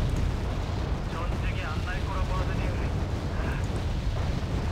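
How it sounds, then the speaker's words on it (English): Rocket impacts from a barrage in the Cold War strategy game Wargame: Red Dragon rumble as a dense, continuous roar of overlapping explosions, with a voice talking faintly under the din. "Rockets are hitting nicely."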